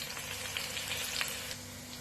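Bulalo sizzles steadily as it is sautéed in a pan, a dense continuous frying hiss with scattered soft scraping taps as it is stirred, fairly close and with no talking.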